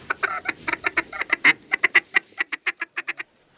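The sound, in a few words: duck call imitating mallard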